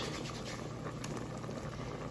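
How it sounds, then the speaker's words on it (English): Water poured into a pot of Jamaican curry cow foot with flour, a faint, steady bubbling and trickle of liquid that stays quiet and even. "I'm just gonna add a bit more water to all of that"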